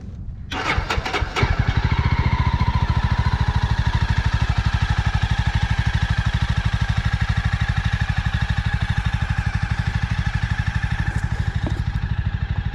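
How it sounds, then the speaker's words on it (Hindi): A Jawa motorcycle engine cranks with a few quick bursts, catches, and settles into a steady rhythmic idle, close and loud, a fast even thumping that holds for over ten seconds with no voices. "अब मैंने अपनी बाइक स्टार्ट कर दी है"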